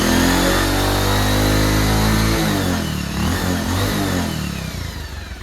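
A second-hand motorcycle engine, brought to life with its self starter, runs loud and close, revving hard with a steady droning pitch that drops and settles toward a rougher idle, with no talking over it.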